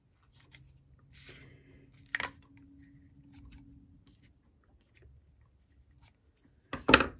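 Scissors trimming cardstock for a handmade birthday card: a couple of short, crisp snips with quiet handling noise between them, close and otherwise silent.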